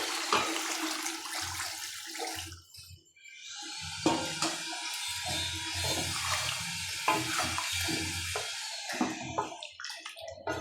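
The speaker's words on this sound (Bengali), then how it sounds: "এর মধ্যে দিয়ে দেবো এখন আমি একটু জল।" Water pours into a cooking pot of veg biryani in a rushing, splashing stream with a few short breaks, close and fairly loud, with no talk.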